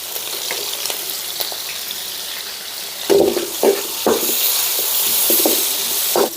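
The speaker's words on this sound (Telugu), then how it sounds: "మన వెల్లుల్లి పచ్చిమిర్చి వేగేయండి" Garlic, curry leaves and green chillies sputter in hot oil for egg fried rice, a loud steady sizzle with sharp crackling bursts and stirring knocks partway through.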